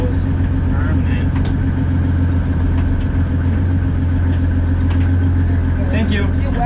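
An OM606 turbo diesel engine runs with a steady, loud low drone inside a car during a race week event, with voices talking over it.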